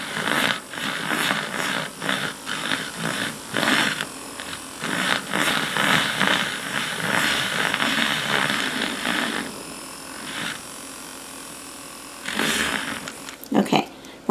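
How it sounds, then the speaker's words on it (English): A battery-powered milk frother with a low battery whips milk for a homemade latte, giving a steady, thin electric whir that stops and restarts while a voice talks over it. "This one I'll probably have to keep frothing a little bit because the battery is low."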